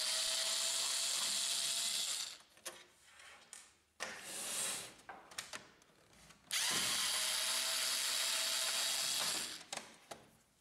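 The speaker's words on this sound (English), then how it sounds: "On the front side, remove the two screws." Two screws are driven out of the front side of an HP Laser 108 printer with a powered screwdriver. The tool whirs in two sustained runs separated by brief clicks and handling noise, close up and quiet, with no voices.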